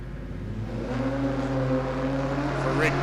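A turbocharged Barra-powered Falcon ute idles and revs at a drag strip, a steady close engine drone rising slightly in pitch as it builds boost, with faint commentary underneath.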